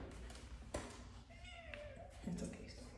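Pet cat meowing indoors, a few short mews amid a woman's speech in a quiet room, fairly faint overall.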